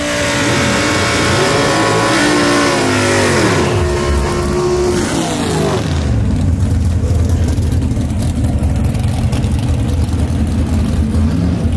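A B/Gas gasser drag race car roars down the drag strip at Shadyside, its loud engine revving and rising in pitch before shifting into a steady, broad rumble as it passes far down the track.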